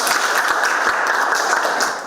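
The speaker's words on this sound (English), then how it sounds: "Give her a clap." A classroom of students claps steadily for a classmate who answered a matrix question, dense continuous applause lasting about two seconds before tapering off at the end.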